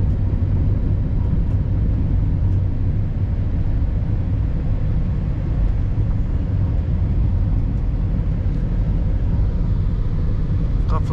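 Ferrari Roma 2021 cabin at night with the windows closed: a steady, muffled low rumble of engine and road noise fills the interior evenly throughout, with no voices.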